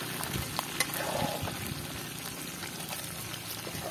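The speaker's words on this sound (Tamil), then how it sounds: "உப்பு போட்டு அவிய விட்டுட்டு அதை எடுத்து பொரிக்கிறோம் எண்ணெயிலையா" Pieces of boiled, salted chicken frying in oil for Sri Lankan style devilled chicken, giving a steady, close, dense sizzle with small crackles throughout and no talking.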